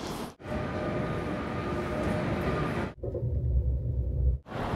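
A train at a Copenhagen railway station rumbles steadily and loudly nearby, then shifts to a deeper low rolling roar as the cars pass, with no talk over it.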